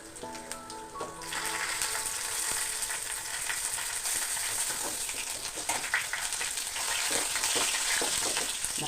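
Onions and curry leaves frying hard in oil for a meat curry, a quiet start giving way to a loud, dense crackling sizzle that holds steady up close.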